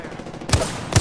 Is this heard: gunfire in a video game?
yes